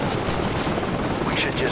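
Gunfire and a helicopter in the Call of Duty 4: Modern Warfare PS3 campaign, a dense, loud wash of rattling shots over a droning rotor roar, continuous and close throughout.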